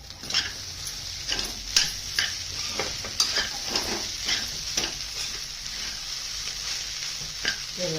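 A spatula scrapes and stirs poha with egg in a frying pan, giving irregular clinks and scrapes over a soft, steady sizzle, close and moderately quiet.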